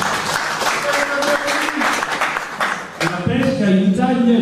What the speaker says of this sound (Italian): Adesso ci vuole un applauso.